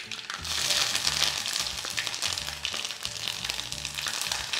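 Chopped ginger fries in hot oil for an instant sadya-style mango pickle, giving a steady, close, loud sizzle with light stirring scrapes throughout and no talking.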